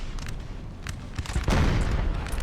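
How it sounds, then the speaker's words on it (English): Cannon and musket fire in the Napoleonic battle game Napoleon Total War, Battle of Dennewitz 1813: scattered cracks of musketry rolling over a low rumble, then a heavy booming cannon blast, dense and continuous with no voices. "Well, watch this gunfire."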